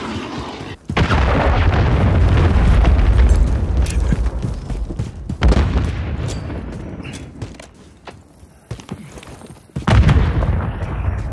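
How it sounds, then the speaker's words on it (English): A massive cruise missile detonation in Call of Duty MWIII multiplayer, a loud sustained boom with rumbling debris that fades over several seconds, then a second heavy blast near the end amid distant gunfire. "Friendly cruise missile deployed."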